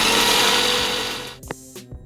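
Mixer grinder whirring loudly as it blends eggs, salt, sugar and chopped garlic for egg mayonnaise, then winding down and stopping, followed by a few faint clinks and knocks.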